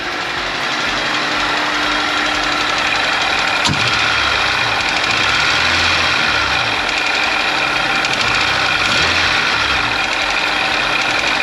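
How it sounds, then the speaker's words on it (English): A Honda S2000 that had been flooded and abandoned idles on its first start, a loud steady engine drone with a faint rapid ticking running through it. "No, I definitely hear some ticking."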